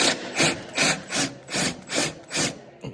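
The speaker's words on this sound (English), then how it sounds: "when you're drilling this rivet head off" A drill grinding through a steel rivet head on a Polaris Matryx subframe, pressed hard in rhythmic bursts: about seven grating, rasping pulses in a regular pattern, close and fairly loud.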